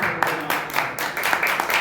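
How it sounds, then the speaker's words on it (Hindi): Congregation clapping together at a church service, a quick burst of rhythmic handclaps with a faint voice underneath. "ताली बजाओ"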